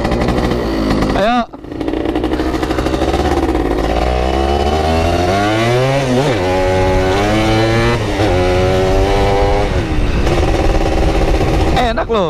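A bebek-type underbone motorcycle revving hard on a test ride, loud and close, its engine note climbing and falling through repeated throttle bursts with a brief dip early on.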